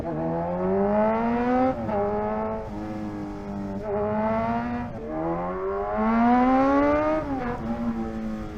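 A Kawasaki Z1000R motorcycle accelerates hard on a wet road, its engine whining through a series of rising pitch sweeps with short breaks between gear changes, loud and steady throughout with no talking.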